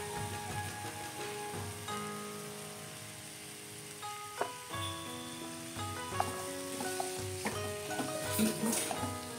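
Chicken pieces left whole cook in a pot for sapo ayam with mushrooms as carrots go in, a quiet sizzle with scattered clinks and stirring knocks, growing busier toward the end.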